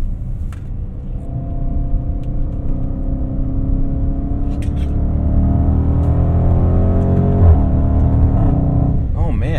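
The engine of a 2020 Range Rover Velar SV Autobiography pulls hard through a corner, its steady, loud rumble building and climbing in pitch from inside the cabin, with road noise underneath.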